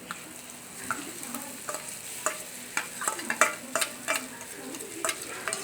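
Mashed elephant foot yam fries in a pan, a low steady sizzle broken by repeated sharp scrapes and taps of a spatula stirring, close and without talk.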